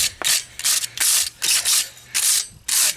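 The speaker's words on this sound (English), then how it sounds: "I'm going to see how smooth I can get it just brushing it off." A carved wooden spoon is brushed smooth in about seven quick, close, loud scratchy strokes, each a short rasping burst separated by brief pauses.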